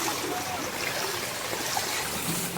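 Floodwater rushing along a street gutter in Cainta after a night of rain, a steady broadband wash of flowing water filling the whole stretch at close range, with no talk over it.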